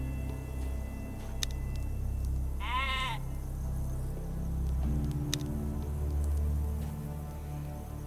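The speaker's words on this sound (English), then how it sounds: "Yeah, the sheep is grazing peacefully." A sheep in the video game ATOM RPG gives one short, wavering bleat over a low, steady ambient rumble, with no speech.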